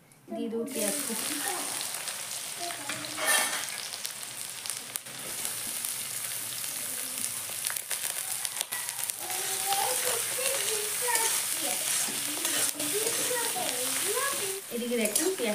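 Chopped onions fry in a pan while cooking a bamboo shoot chicken curry, giving a steady close sizzle and crackle throughout, with someone talking over it at times.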